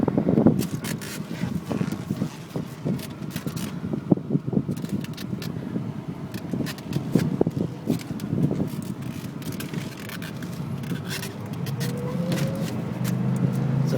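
A 1998 Chevy S-10 Sonoma 4x4 pickup with a 5-speed manual rolls along, giving a steady cabin drone of engine and road rumble with wind noise and occasional rattles and scrapes.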